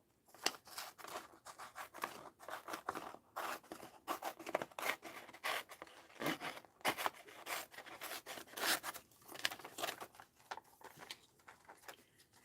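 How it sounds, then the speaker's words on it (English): Scissors snip and rub through card to make Christmas card pockets, with quick, irregular cuts and rustling close by at a low level. "Let's cut this down."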